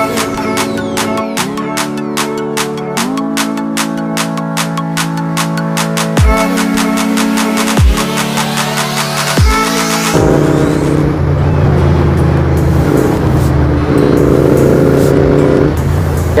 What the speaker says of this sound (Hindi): कैसा लगा एग्जॉस्ट नोट?